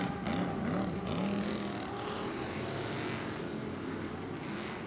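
An Ultra4 off-road race car engine roars past at the 2019 Crandon World Championship Saturday night race, a loud, steady, revving drone that fades slightly as it moves through a chicane.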